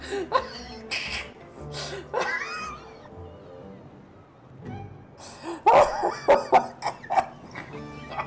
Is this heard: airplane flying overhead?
no